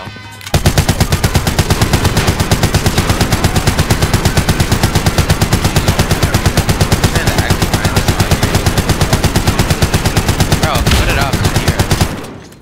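Automatic gunfire in the video game Warzone, a loud, rapid, continuous burst of shots running almost the whole time with barely a pause, close and dominant.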